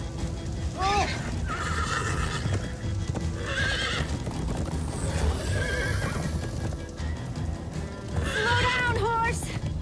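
In Minecraft: Story Mode, a horse whinnies several times over steady clip-clopping hooves, with people talking loudly and excitedly throughout.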